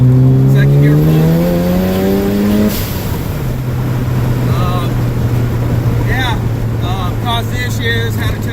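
A car with a freshly repaired transmission pulls hard in second gear. The loud, close engine note climbs steeply and then drops into a steady roaring drone, with faint chirps and tire noise on top.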